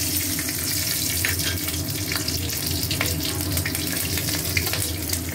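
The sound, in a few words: tempering spices sizzling in hot mustard oil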